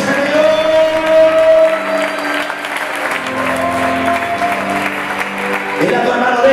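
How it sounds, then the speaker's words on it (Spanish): Applause from a church congregation in a Spanish-language service, a steady loud wash of clapping lasting several seconds, with voices mixed in. "Dale un fuerte aplauso."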